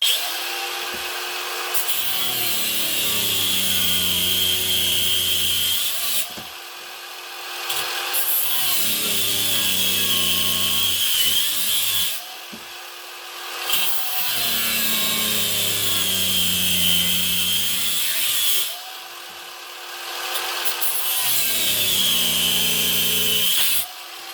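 Repeated bursts of a power saw cutting through salvaged wood, each lasting several seconds, separated by short pauses, loud and close.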